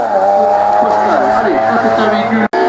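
Race car engine at the 61st La Pommeraye hill climb, a loud sustained roar with shifting revving tones and a brief drop near the end, with a commentator talking over it.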